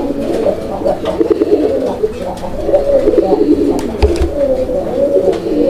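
A Raj Golla pigeon on a farm gives a deep, throaty coo over and over in a rolling rhythm, close by, with light background noise.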